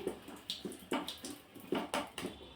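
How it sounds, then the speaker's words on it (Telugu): Water is poured into an egg bajji batter of flour and a little soda in a bowl, then stirred by hand, giving a few short, close splashing and sloshing bursts with no one talking. "ఒక వాటర్ పోసి కలిపేసుకుందాం"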